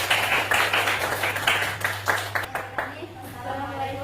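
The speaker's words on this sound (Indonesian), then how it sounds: "Berikan aplaus untuk kelompok 4." An audience claps for a student group in a classroom lesson, a steady patter of many hands fading out over a few seconds, with a steady hum beneath and a voice speaking near the end.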